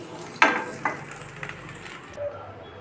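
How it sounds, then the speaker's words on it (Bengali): Nigella seeds drop into hot oil left from frying drumstick pieces for a Bengali chorchori, giving a quiet sizzle with a few sharp bursts near the start that fade to a soft crackle. "ওই তেলের মধ্যেই কালো জিরা দিয়ে দিচ্ছি"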